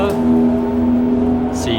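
A Honda Accord Euro R race car at a time attack event at Central Circuit holds a loud, steady engine note nearby, with people talking over it.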